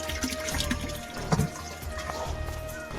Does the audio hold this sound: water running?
yes